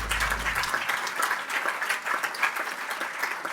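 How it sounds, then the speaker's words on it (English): Audience applause at the NSW Premier's Awards 2022 ceremony: steady, dense clapping from a hall crowd, fairly even and moderately loud for a few seconds. "Give yourselves a clap"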